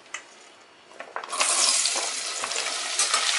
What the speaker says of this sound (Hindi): यही घी में हम गाजर डाल देंगे